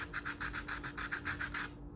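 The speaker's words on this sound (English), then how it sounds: "anytime you have sanding going on, you're kicking up some dust" Steady back-and-forth sanding on a glitter-coated ring holder craft piece, about a dozen even rasping strokes in quick rhythm, close and moderately loud, ending abruptly.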